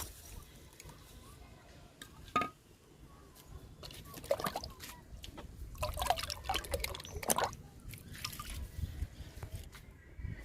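Liquid fertilizer poured around the loosened soil at the base of a fruit plant, a quiet trickling and dripping with soft splashes that rise and fall through the whole stretch, with faint background noise.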